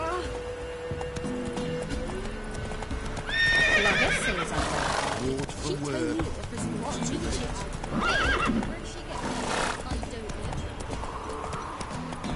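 Geralt's horse Roach in The Witcher 3 neighs loudly twice amid steady clip-clopping hooves, with game music and ambient sound running underneath.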